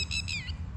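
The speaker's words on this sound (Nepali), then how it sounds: "यहाँ चाहिँ चरा कराइरहेछ है।" A bird calls outdoors in Dubai, a few clear whistled notes in quick succession, close and fairly loud over a low background rumble, with no voices.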